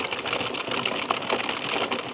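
An Addi circular knitting machine is cranked by hand, producing a steady, rapid mechanical clicking whir as rounds of yarn are knit.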